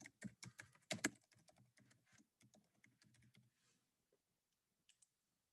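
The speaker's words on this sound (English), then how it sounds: "I just typed it in like that" Search text typed on a computer keyboard, a quick close flurry of crisp key clicks that slows and thins out, then a couple of isolated taps after a short pause in a quiet room.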